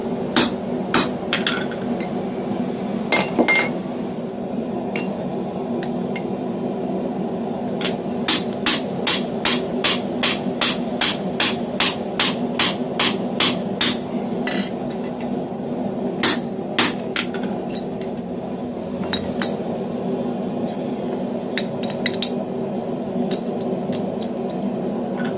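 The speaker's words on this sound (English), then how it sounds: "Now I've moved on to a handheld tapered punch." Hammer blows ring out on a handheld tapered punch while forging blacksmith tongs, sharp metallic strikes coming in scattered groups and one fast, even run of about a dozen hits, close and loud over a steady background hum.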